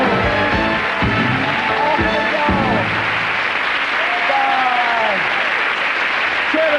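Studio audience applause sending off guests David and the old woman on a comedy show, loud continuous clapping with cheering and whooping voices on top throughout.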